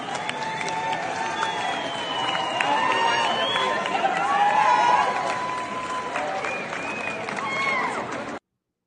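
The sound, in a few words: crowd cheering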